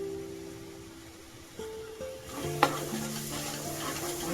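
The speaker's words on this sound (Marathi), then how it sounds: "हलवून घेऊया मसाला चांगला आपला परतून झालाय" Raw mango pieces stirred into fish curry masala frying in a pan, a steady soft sizzle with a few clinks and scrapes of a spoon against the pan, close and alone without talk.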